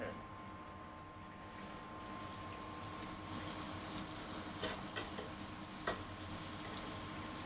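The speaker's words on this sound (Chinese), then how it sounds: "等佢煮啦，我哋煎牛扒咯" Steak searing in a hot pan gives a steady close sizzle with a few sharp pops and crackles, with voices faintly audible in the background.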